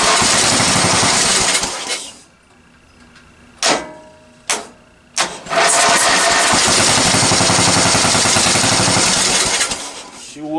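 A free lawn tractor's starter cranks the engine with the choke on: a loud, harsh burst, a pause with a few short knocks, then a long, steady rhythmic churning that runs on without the engine catching.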